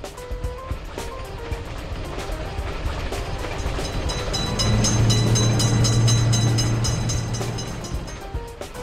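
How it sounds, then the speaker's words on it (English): At a railroad crossing a passing train builds from a rumbling clatter to a loud sustained horn blast midway, then fades slightly as cars keep rolling by. "Train is in sight."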